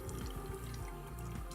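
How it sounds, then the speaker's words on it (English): Water draining from a bathroom sink just unclogged with the stopper removed, a brief, faint stretch of gurgling and trickling flow heard close up, with no voices. "water is going away"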